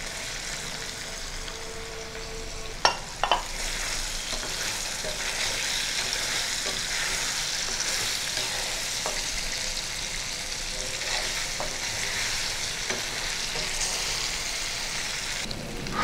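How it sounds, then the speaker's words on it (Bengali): Pieces of paneer (chhena) fry in a pan with a steady, quiet hiss of oil. A few sharp clinks and pops sound near the start. "পনিরটা হালকা করে ভেজে নেব।"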